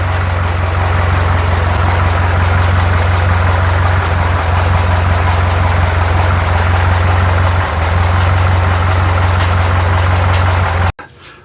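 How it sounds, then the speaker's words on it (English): A restored 1940 Ford 9N tractor engine, just fitted with a new radiator, runs at a steady, loud idle with a deep continuous low rumble close by before cutting off abruptly at the end. "getting this tractor started up after this thing's been tore down for 2 years"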